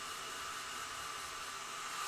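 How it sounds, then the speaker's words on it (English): A handheld hair dryer running close by, a constant even airy whoosh and hiss that stays unchanged for the whole short stretch. "I'm holding it about less than an inch away from the end of my hairdryer."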